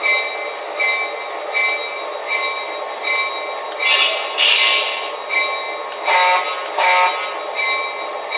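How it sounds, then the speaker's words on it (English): Pre-production RS 3 model locomotive running on a model railway track, a steady electric motor whine and buzz with rhythmic swells and wheel rattles, close and fairly loud throughout. "we're going to bring this locomotive around"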